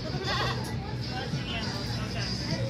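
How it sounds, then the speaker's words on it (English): A goat bleats at a small petting zoo at a farmers market, its calls mixed with steady nearby chatter from visitors. "It's a goat."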